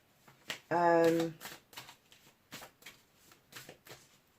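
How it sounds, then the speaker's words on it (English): Tarot cards shuffled by hand in a quick riffling burst, fairly close, followed by a string of soft card taps and slides as a card is drawn, with speech nearby. "giving them a good shuffle, we've got a card out"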